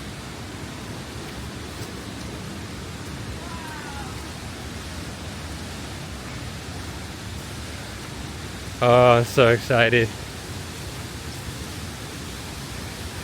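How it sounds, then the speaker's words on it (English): Nunobiki waterfall near Kobe, Japan roars as a steady, broad rushing wash throughout the hike, with a person briefly speaking excitedly over it partway through. "Jeez, the water's roaring."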